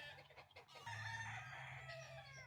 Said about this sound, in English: There's always that one chicken that just don't know when to shut up.